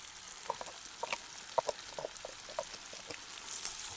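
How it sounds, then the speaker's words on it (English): Chopped onions fry in a pan with a quiet, scattered crackle of small pops and sputters over a soft background hiss. "We're just gonna fry them up until they're starting to get translucent."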